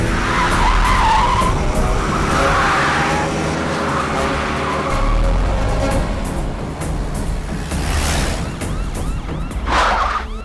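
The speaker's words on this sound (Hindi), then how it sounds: "कुलराज उस गाड़ी का पीछा कर" A red Fiat speeds through a chase, its tyres skidding and screeching in loud bursts over a constant engine roar, with a siren-like wail mixed in.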